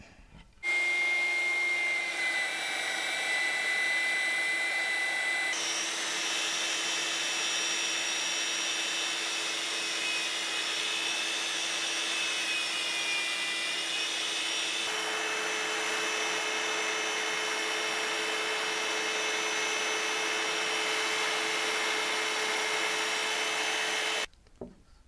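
Electric sander whirs steadily against a wooden Master Sword, a loud continuous tonal hum that shifts pitch slightly as pressure changes, running nearly the whole time before cutting off.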